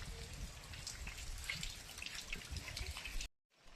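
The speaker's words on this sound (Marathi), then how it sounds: "खूप पाऊस पडायला लागलाय" Rain falling in a village, a faint, even hiss of drops with scattered drips, steady until an abrupt break near the end before it resumes.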